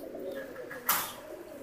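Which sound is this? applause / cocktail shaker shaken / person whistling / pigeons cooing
pigeons cooing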